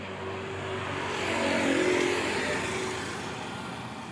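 Motorcycles and other traffic pass along a street on a hot morning, a mid-pitched engine drone swelling to a peak midway and then fading, moderately distant, with no talk.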